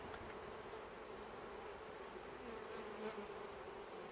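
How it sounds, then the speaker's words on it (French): Honeybees buzzing steadily around a busy, heavily populated hive being prepared for winter, a dense continuous drone that is fairly faint and even throughout. "Du coup avec cette grosse mêlée, les ruches vont être très populeuses."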